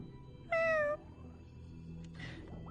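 A video game cat named Bean Paste gives two short meows: the first is clear and bright, and the second is softer, about a second and a half later, over a quiet game background.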